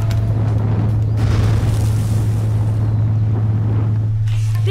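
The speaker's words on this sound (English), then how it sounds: "See that fire? That's him, he's blowing fire." Sasuke blowing fire in the video game Naruto: Rise of a Ninja, a steady roaring whoosh with a deep low hum underneath, continuous and loud across the whole stretch with no voices.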